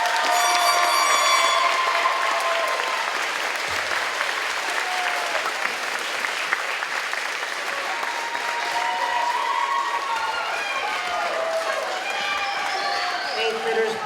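Audience applause for eighth graders at a school ceremony, a broad, steady wash of clapping from a large crowd lasting throughout, with scattered cheers and voices mixed in.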